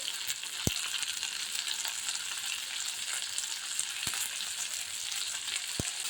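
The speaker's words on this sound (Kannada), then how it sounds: "ಎಲ್ಲಾನು ಚೆನ್ನಾಗಿ ಎಣ್ಣೆಯಲ್ಲಿ ಬಾಡಿಸ್ಕೋಬೇಕು ನೋಡ್ರಿ" Ingredients with coriander and salt sauté in oil for restaurant-style tomato soup, a soft, steady background sizzle punctuated by three crisp utensil taps, with no voices.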